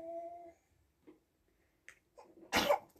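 A single sudden sneeze bursts out close by after a brief quiet stretch with a small intake of breath.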